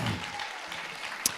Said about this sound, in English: Let's applaud all our poets.